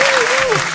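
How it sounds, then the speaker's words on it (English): Short burst of audience applause and cheering for a podcast guest, with a voice briefly rising over the clapping crowd. "Let's give her a round of applause"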